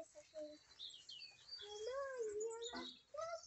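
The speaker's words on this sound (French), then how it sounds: "on entend les oiseaux" Small birds chirp and trill in an urban vegetable garden a week before spring, a few short whistled calls and a longer warbling phrase, faint and at a moderate distance against quiet outdoor background.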